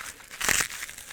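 Brief crinkling and crunching of packaging material, a short burst of plastic rustle close by, as scissors cut open the wrapping of a LEGO bricks order.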